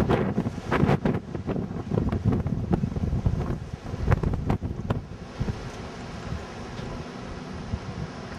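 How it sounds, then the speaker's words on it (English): Strong hurricane wind during Hurricane Ike in Houston buffets the microphone in loud, roaring gusts that ease off toward the end, with no voices. "Wind started to pick up."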